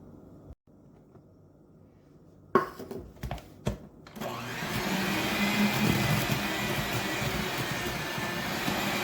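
An electric mixer blends dry ingredients into creamed cookie batter for snickerdoodles; after quiet handling and a few knocks, the motor kicks in and whirs steadily and loudly to the end, no talk.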